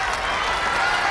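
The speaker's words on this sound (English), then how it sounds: "Tremendous encouragement from this crowd." A crowd at a World's Strongest Man heat applauds and cheers a competitor in a dense, steady wash of clapping, with a commentator's voice over it.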